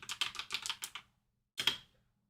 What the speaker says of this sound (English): Let me type out single crochet.